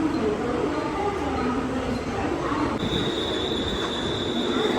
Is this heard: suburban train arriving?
yes